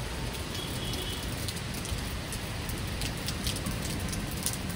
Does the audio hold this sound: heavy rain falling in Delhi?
yes